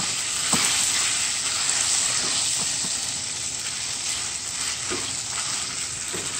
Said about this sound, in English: We're just gonna add our shrimp in. And we're gonna stir.